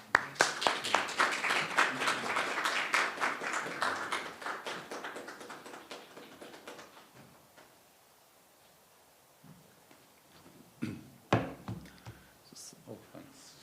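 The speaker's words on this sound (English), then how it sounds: "let's welcome him up with a round of applause" Applause at a Sunday church service as an elder is welcomed up, dense clapping at first that thins out over several seconds, followed by scattered taps and a brief voice near the end.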